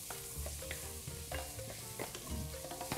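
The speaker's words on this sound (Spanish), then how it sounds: "Entonces voy a saltear esto." Vegetables sautéed in a pan for ají, a soft, steady sizzle at low heat with gentle stirring scrapes and taps throughout, quiet and close, with no talking.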